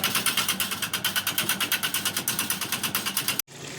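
An electric water pump motor runs with a rapid, rhythmic mechanical chugging that pulses evenly and loudly, then cuts off abruptly, leaving a softer steady hum.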